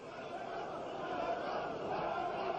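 Boxing arena crowd at a heavyweight bout chanting a fighter's name, a distant, steady roar of massed voices heard faintly and continuously.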